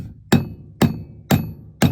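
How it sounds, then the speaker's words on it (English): A bearing race driven into place with a race driver kit and hammer, four sharp, loud metallic strikes landing at a steady rhythm about half a second apart, with no talking. "Now we'll hammer this race in. Ooh, we get to use a race driver kit for the first time ever in my life."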